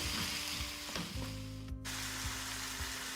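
Spiced chicken sizzles steadily in a hot pan while being stirred, with a few scraping knocks of the utensil against the pan over a continuous frying hiss; no one speaks.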